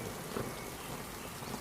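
Steady rain pouring in a Hindi birds cartoon, a dense, even hiss of falling drops with no pauses and no voices.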